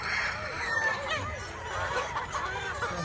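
Chickens about four months old clucking on a farm, several soft overlapping clucks and murmurs close by over steady background noise.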